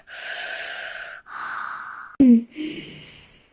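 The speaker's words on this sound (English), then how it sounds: "I take a deep breath." A single sharp, deep inhalation cuts in between stretches of voiced, breathy sound, followed by a softer exhale; close and fairly loud.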